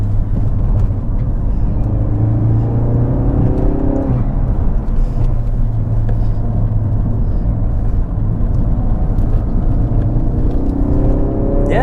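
A modified Mk3 Ford Focus RS with a Dreamscience handling pack is driven through corners in third gear, its engine droning loud and steady from inside the cabin, rising and falling with short revs.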